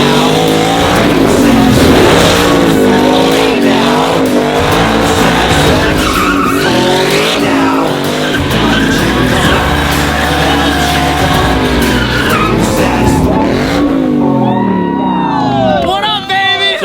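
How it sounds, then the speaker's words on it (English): A drift-converted, wide-body Ford Mustang built to be extremely loud roars and skids nearby. A wavering engine howl mixes with tire squeal, and a crowd and voices can be heard underneath throughout. "Jake spent the winter drift converting his Mustang over"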